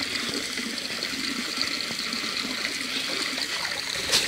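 Water runs steadily from a hose into the forward tank of a sailing boat on Strangford Lough, Northern Ireland, a constant close splashing trickle.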